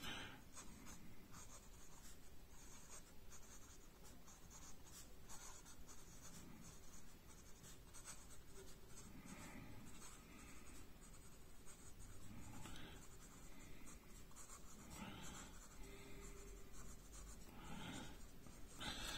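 A Carioca fountain pen writing on paper, faint steady scratching of the nib across the sheet in a continuous run of short strokes, close up and quiet, with no one talking.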